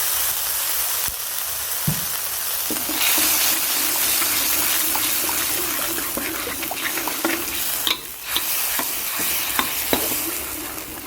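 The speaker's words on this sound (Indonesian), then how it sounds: "kita akan tumis dulu bumbu yang sudah kita haluskan" Ground spice paste for mangut sizzles and is stirred in a hot pan, a steady close frying hiss broken by scraping and clinking utensil strokes, with no talking.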